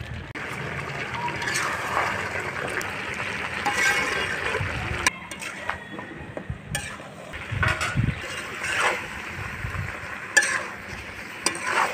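Chicken with raw jackfruit and whole cut potatoes is stirred in a pan, with steady close frying sizzle broken by scraping stirs and the clatter of a spoon on the pot.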